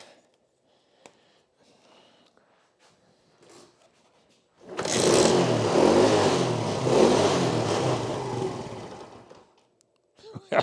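A Sym Symba scooter engine catches after a quiet pause, roars loud and close for several seconds with uneven revving, then cuts out abruptly back to near silence.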